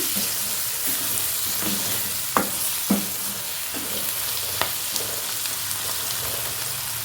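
Turmeric powder frying in oil in a pan for a milk curry, giving a steady close sizzle with a few scattered clicks and scrapes of stirring, and no voices.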